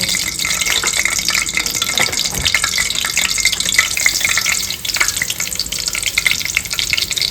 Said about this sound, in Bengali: এই ঘিটাকে এখন একটু হালকা গরম করে আমি এখন সুজিটাকে